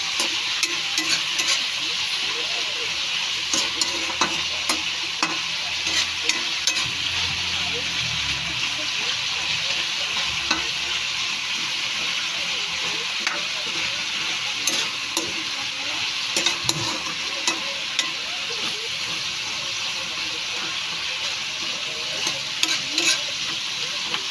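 Pakbet vegetables sizzle steadily in a pan while being stirred, with a continuous frying hiss and frequent small scraping clicks and pops throughout.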